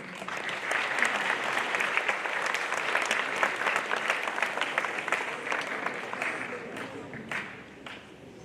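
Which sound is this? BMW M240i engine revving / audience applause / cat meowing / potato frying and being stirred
audience applause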